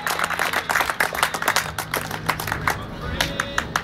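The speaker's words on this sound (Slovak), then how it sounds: "Potlesk pre víťazov." A small crowd claps for the winners at a supermoto race prize ceremony, a brisk run of scattered claps that is loud and close, with a voice speaking underneath.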